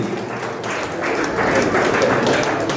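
A crowd applauds, a dense wash of clapping that swells slightly and stays steady throughout.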